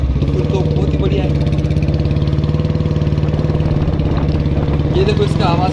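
A Royal Enfield Classic 350 motorcycle engine idles steadily nearby, its large exhaust putting out a deep, even throb for several seconds; a voice speaks over it.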